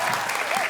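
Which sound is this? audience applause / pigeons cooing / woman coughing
audience applause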